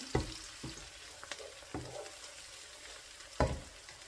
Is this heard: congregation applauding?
no